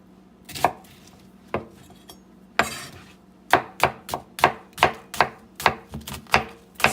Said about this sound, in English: we're gonna chop up this onion like so. It can just be a rough chop.